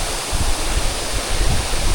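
Rushing waterfall on a hiking trail, its water cascading down in a steady, dense roar that stays close and unbroken throughout.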